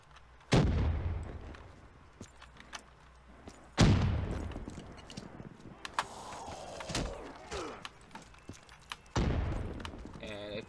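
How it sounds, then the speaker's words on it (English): Grenade blasts go off in Call of Duty Black Ops 3 custom zombies, with three sharp, heavy booms spaced several seconds apart, each decaying into rumble, and scattered mechanical game noises between them. "You go here and you just throw a grenade."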